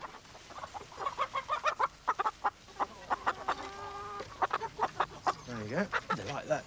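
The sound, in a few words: chickens clucking while being fed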